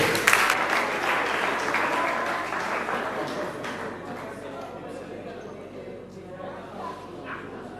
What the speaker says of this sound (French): Encore une fois, vos applaudissements s'il vous plaît